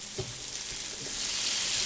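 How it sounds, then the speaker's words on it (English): Large mushrooms fry in butter with a continuous close sizzle that swells slightly, while soft knocks and scrapes of stirring come early on. "Just mix these around, get them nice and coated with the butter."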